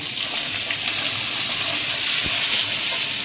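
Ginger paste fries in a pan with a splash of water added, giving a steady, close hiss and sizzle that stays even throughout, with a faint stir or tap near the end.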